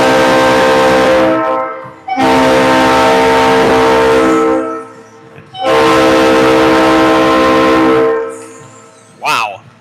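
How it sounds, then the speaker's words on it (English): Very loud, close train horn blasts in two long sustained chords with a short pause between, echoing inside a hockey arena before a Wildcats game; a brief high whistle-like sweep follows at the end. "Wow, train horn."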